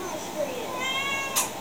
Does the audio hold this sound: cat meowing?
yes